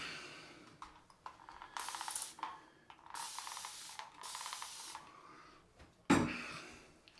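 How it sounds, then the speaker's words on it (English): Several short hissing bursts from a spray bottle, each spritz a second or so long, with a louder sharp spray near the end, close by. "spray on with water again."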